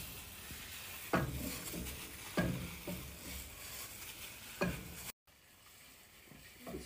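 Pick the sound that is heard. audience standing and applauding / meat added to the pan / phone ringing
meat added to the pan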